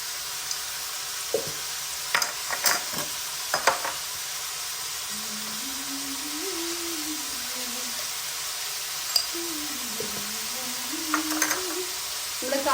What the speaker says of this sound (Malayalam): ഇനി നന്നായിട്ടൊന്ന് വഴറ്റിയെടുക്കണം കേട്ടോ